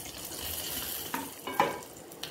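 A spoon stirs yellow cucumber sambar with coconut, curry leaves and green chilli in a pan, soft sizzling underneath with a few scraping knocks toward the end.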